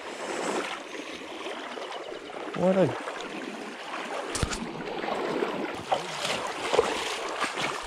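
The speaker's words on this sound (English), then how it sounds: "right in this little waterfall. Rapids, I guess." Small waterfall rapids in a clear trout stream rush and burble continuously close by, with a brief spoken exclamation and some splashing and knocking sounds over the flow.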